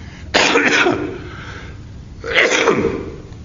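Two harsh, explosive coughs from a man with allergies and lingering bronchitis, spaced about two seconds apart and close to the microphone in a quiet church setting.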